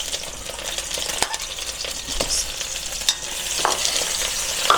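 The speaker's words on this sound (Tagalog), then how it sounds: "Medyo papulain po natin ng konti yung ating pork. Sunod po natin yung ating mushroom." Pork and mushrooms sautéing in a pan for pancit bihon with canton, a close, steady sizzle and frying hiss broken by sharp scrapes and knocks of a utensil stirring against the pan.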